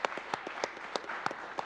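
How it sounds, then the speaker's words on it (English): Scattered, faint clapping from a small audience at the Awesome Games Done Quick 2017 speedrun marathon, with sharp claps in an uneven but steady rhythm. "Everybody give a round of applause for Cole."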